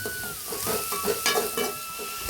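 Onions and green chilies sautéing in a pan for an egg curry: a continuous bright sizzle with soft, repeated stirring scrapes, close and fairly loud, with no talking.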